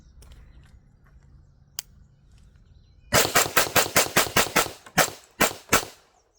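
Roughly a dozen loud, rapid pistol shots from a Ruger SR1911 with commemorative engraving, fired as fast as possible in a tight string that spaces out slightly toward the end, following a quiet lead-in.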